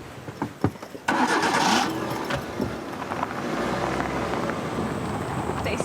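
A car engine cranks and catches with a sudden loud burst, then settles into a steady idle rumble, preceded by a few faint clunks like doors or movement.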